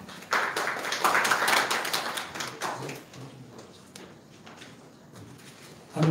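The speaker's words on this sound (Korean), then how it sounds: "박수로 환영해 주시기 바랍니다." An audience at a Korean policy forum on a Google tax and digital VAT claps to welcome the next speaker, a burst of dense applause that thins out after a few seconds into scattered light claps.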